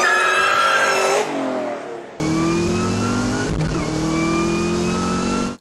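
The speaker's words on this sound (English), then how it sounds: "this is known as a twin screw or a roots type supercharger, made famous mostly by videos like this." A roots-type twin screw supercharged car engine revs hard and loud, the tone climbing in steady pitch sweeps, briefly dropping off before surging again through several rising pulls.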